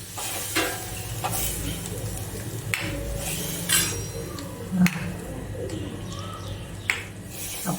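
A spoon stirs spiced curd and water in a pan for Kathiyawadi Dhokli, making soft repeated scrapes and a faint simmering hiss. Birds coo and chirp in the background.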